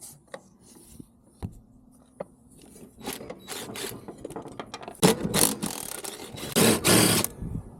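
Metallic scraping, clinks and ratcheting bursts come from a wrench working nuts loose on a Craftsman riding mower, quiet and sparse at first, then louder and busier near the end.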